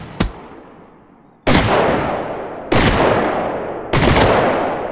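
Large Merkur shells from the game Fireworks Mania burst in four sharp, loud booms, each followed by a long crackling decay, spaced roughly a second or more apart.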